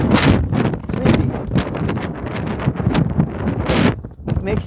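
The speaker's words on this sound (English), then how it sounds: "It's windy." Strong wind buffets the microphone on a hilltop, a loud, continuous rushing roar with gusty surges, heard close and alone.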